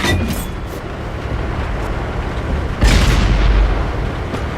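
A tank gun fires in the World of Tanks video game as a single heavy, deep boom that rises out of a constant rumbling battlefield din.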